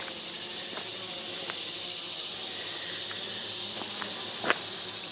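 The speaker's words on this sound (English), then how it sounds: "Hear those crickets. Love that sound." Faint, steady high-pitched insect buzz fills the background, crickets chirping continuously at a distance with a few soft clicks and rustles.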